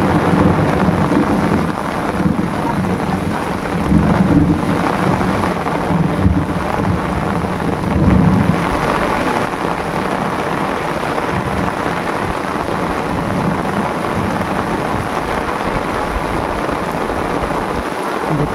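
Torrential rain pours across a Sundarban river during a thunderstorm while a castnet is thrown from a fishing boat, a constant roaring hiss with low rumbles and wind buffeting in the first half.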